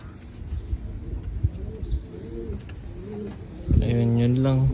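Homing pigeons kept as stock hens and breeders coo in their loft, giving soft low repeated coos. Someone talks over the early part, then a louder, fuller cooing swells close by near the end.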